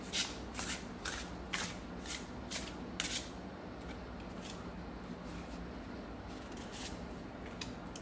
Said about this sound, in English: So we're going to be taking 3 cards from each deck.